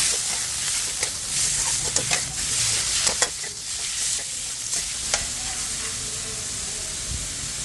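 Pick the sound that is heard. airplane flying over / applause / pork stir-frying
pork stir-frying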